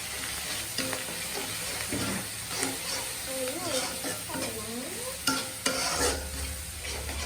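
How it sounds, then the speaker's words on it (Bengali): Spices including dried red chilli powder stir-fried together in a pan for a prawn dish, a continuous sizzle with repeated scraping of a spoon, a few sharper clacks and a voice speaking briefly underneath. "সব কয়টা মশলা একসাথে কষিয়ে নেব"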